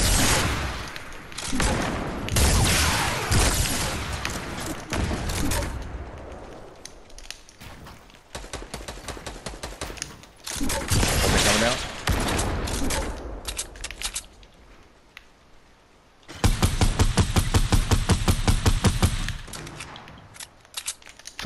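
Quad launcher rockets and gunfire in a duo competitive battle royale video game ring out in loud, rapid bursts and volleys, with brief lulls between clusters of blasts and one dense rattling barrage near the end.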